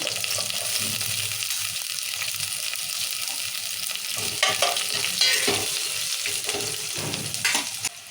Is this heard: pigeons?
no